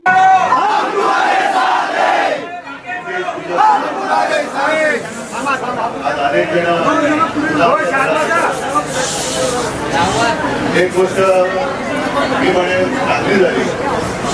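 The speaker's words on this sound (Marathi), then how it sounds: "फटाके फोडून सर्व कार्यकर्त्यांनी जल्लोष साजरा केला" Shiv Sena party workers at a celebration cheer and shout together in a loud, dense crowd roar that runs without a break, with chatter and hissy bursts mixed in.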